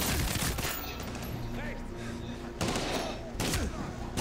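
Rapid bursts of automatic gunfire and explosions in the first-person shooter Medal of Honor: Warfighter during a ship assault, loud and dense with a few sharp louder volleys.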